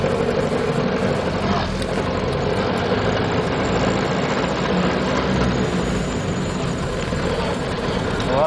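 A 1930 Ford Model A engine running while driving, a loud, constant low rumbling drone with road and wind noise, steady throughout, with faint voices at times.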